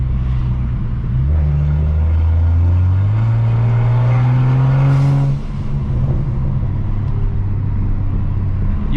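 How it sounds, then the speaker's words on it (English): A built 600 hp BMW 335i engine revs through the gears from inside the car, a loud, deep, rising drone that drops off near the end, with a turbo blow-off and pops and no talking. "You can't hear the actual turbo spool up too much, but the blow-off sounds sick."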